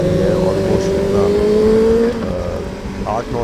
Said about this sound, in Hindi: ये आया है मधुर मधुर संगीत, ये बेनेली 600i के एग्जॉस्ट में